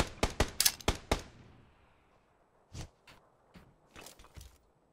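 A grenade in PUBG on the Miramar desert map, heard as a fast burst of several sharp loud bangs that then decays, followed by fainter scattered impacts and steps in a quiet gap.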